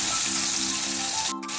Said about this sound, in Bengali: ফোড়নটা হালকা নাড়াচাড়া করে নিয়ে টমেটো কুচি দিয়ে দেব।